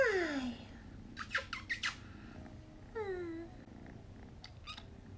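A cat making high squeaking calls rather than meows, a few thin rising-and-falling chirps against a quiet room, with small clicks and a voice faintly in between.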